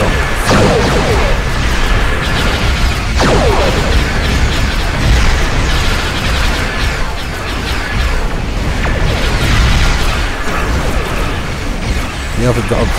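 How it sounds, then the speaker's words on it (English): Cannons on a Nicor bio-warship fire continuously in the space game Star Trek Online, a loud dense barrage of booms and bursts, with a voice talking over it. "these cannons just never stop firing."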